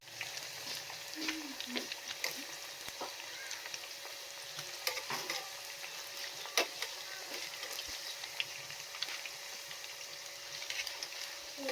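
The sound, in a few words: siomai deep frying in oil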